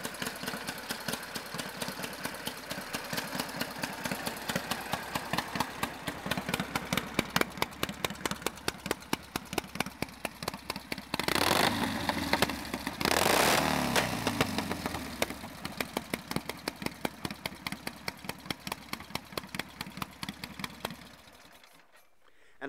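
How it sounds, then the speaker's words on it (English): Vintage 1937 Indian Sport Scout Racer motorcycle engine running steadily with a fast, even, ragged chatter, briefly swelling louder mid-run before cutting off abruptly at the end. "there you go, a 1937 Indian Sport Scout Racer"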